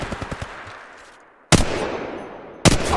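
Automatic gunfire in Apex Legends opens with a quick rattle of several shots that fade into a decaying echo. Two loud, sharp blasts follow a second or so apart, each leaving a long ringing tail.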